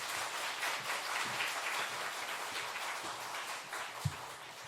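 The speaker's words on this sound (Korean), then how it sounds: "목사님 큰 박수로 우리 환영했으면 좋겠습니다" Church congregation applauding to welcome a guest pastor at a Korean revival evangelism service: steady, dense clapping throughout, moderately loud and roomy, with no talk over it.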